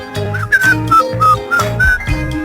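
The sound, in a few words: person whistling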